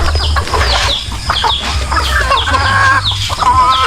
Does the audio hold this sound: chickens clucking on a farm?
yes